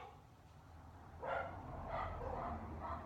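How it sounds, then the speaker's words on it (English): Several dogs bark indoors at a distance, a few muffled, faint barks in quick succession after a quiet start. "Hear my dogs, little rascals"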